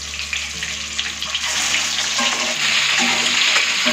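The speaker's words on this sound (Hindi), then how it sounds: "हम इसे तब तक भूनेंगे जब तक कि फिश हमारा गोल्डन ब्राउन ना हो जाए" Rohu fish pieces frying in hot oil in a pan, a continuous close sizzle with crackling and light bubbling, steady and fairly loud with no talk.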